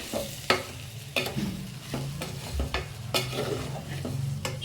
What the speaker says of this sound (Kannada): ಅಕ್ಕಿ ತರಿಯನ್ನು ಹಾಕಿ ಮಿಕ್ಸ್ ಮಾಡ್ಕೊಳ್ಳಿ